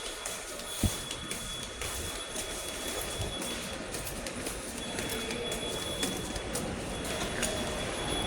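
A train rumbles and clatters through an MRT station at close range, wheels rattling steadily with a thin high squeal running above the noise.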